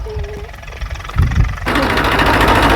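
A tractor engine turns over and catches, thumping briefly before settling into a loud, steady rumbling run close by.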